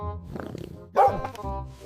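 A dog lets out a single sharp bark, near and fairly loud, rising briefly out of quieter low sounds before fading.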